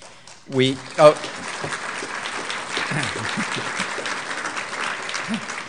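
Applause and crowd noise fill the room after a couple of louder bursts, a steady wash of clapping that carries on to the end.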